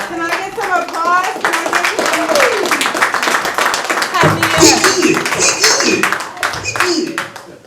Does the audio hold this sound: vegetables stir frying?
no